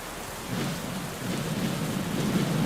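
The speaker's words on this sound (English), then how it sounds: "Bro, why is there so much lightning?" Thunderstorm in a video game, with steady heavy rain and a low rolling rumble of thunder that swells louder toward the end, close and continuous with no talking.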